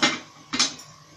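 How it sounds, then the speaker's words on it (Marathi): A metal cooking pot set down on a kitchen gas stove, two quick clanks close by, the second a double knock, with no talking. "हा टोप ठेवायचा"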